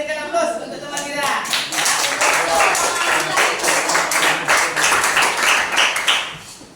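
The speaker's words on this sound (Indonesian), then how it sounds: "boleh kita berikan aplaus untuk teman kita" Classroom applause for a classmate, a burst of many hands clapping that builds quickly and holds for several seconds before tapering off, with a teacher's voice briefly at the start.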